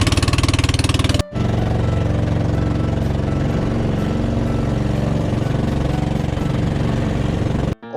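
A fishing boat's engine runs loud and close in a steady, unbroken droning chug, dropping out for a moment just after the start before resuming.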